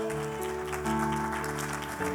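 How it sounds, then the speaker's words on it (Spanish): A church congregation claps together in praise at a service, a brief burst of applause layered over sustained music tones. "dale un aplauso al Señor"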